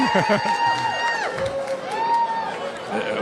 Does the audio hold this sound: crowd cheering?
yes